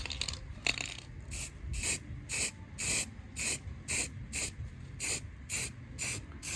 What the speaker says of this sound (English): we're just going to spray this now